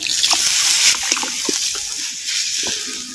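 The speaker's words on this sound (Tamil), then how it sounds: "இப்போ அரை லிட்டர் தண்ணி வந்து சேர்த்துக்கிறேன்" Half a litre of water is poured from above into ground coconut masala in a pot for black urad dal curry, a close, bright splashing gush lasting a few seconds.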